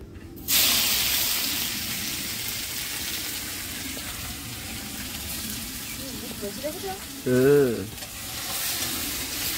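Steady hiss of garlic frying in hot oil starts abruptly and continues throughout, with a brief voice and a clink near the end.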